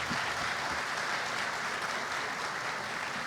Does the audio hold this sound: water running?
no